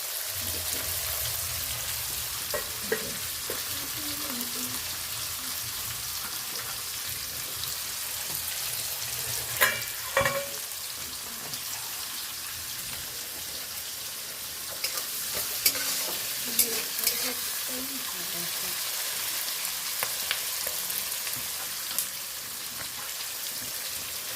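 Onions fry in a pan, frying for a fish-head dal with katla fish, a steady close sizzle with occasional scrapes and clinks of stirring over about twenty-four seconds, no voices.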